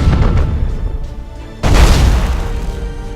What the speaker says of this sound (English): Broadside macro cannons ready to fire on your order